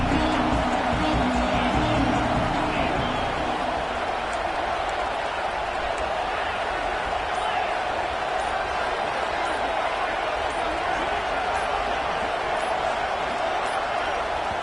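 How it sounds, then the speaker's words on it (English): A roaring stadium crowd at a college football game, a loud, dense, steady wall of noise sustained throughout with no pauses, with an announcer talking over it. "And with this place rocking, the crowd forces a false start."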